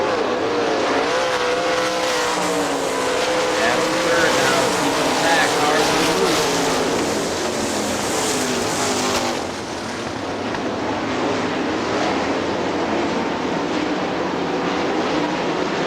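AVSS 410 sprint cars racing at Hartford Speedway Park in Michigan, a loud sustained engine roar from several cars with pitch sweeps as they pass, under continuous commentator talk.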